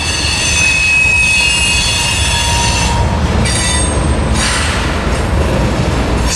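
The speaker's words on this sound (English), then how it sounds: "the head end of the train is finally backing up here" Manifest freight train backing up into a receiving yard, wheels squealing in several high, sustained tones over a steady low rumble of rolling cars, loud and close throughout.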